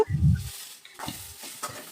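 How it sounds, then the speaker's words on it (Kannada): Chopped cluster beans stirred and fried in a little oil in a pan, with a brief low rumbling scrape at the start, then quieter intermittent stirring and faint sizzle. "ಇದಕ್ಕೊಂದು ಸ್ವಲ್ಪ ಒಂದು ಅಷ್ಟು ಆಯಿಲ್ ಹಾಕ್ಕೊಂಡು ಚೆನ್ನಾಗಿ ಫ್ರೈ ಮಾಡಬೇಕು"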